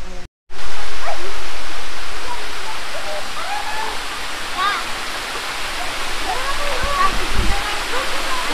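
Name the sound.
Tagkukuring Falls waterfall, weak flow in shallow water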